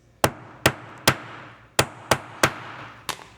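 A hammer strikes a metal rivet flat on a leather strap bracelet in seven sharp, evenly spaced blows, close and clear with nothing else heard.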